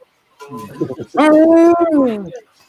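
A dog gives a few short yips, then a long, loud, drawn-out whining howl that bends downward in pitch, heard close up after a faint lead-in.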